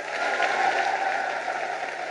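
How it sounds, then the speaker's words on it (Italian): A studio audience at the taping of the final episode of a TV show's fourth season applauds in a brief, dense burst of steady clapping, with no voices over it. "è partito un applauso"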